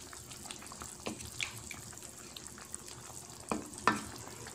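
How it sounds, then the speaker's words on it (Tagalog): Pineapple chicken gets stirred in a pan, with soft scraping and light sizzling over a low background hiss. A few louder clacks of the utensil stand out near the end, and there is no talk. "halu-haluin mo muna."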